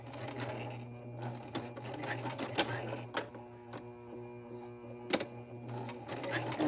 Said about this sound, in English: I'm going to sew forward a few stitches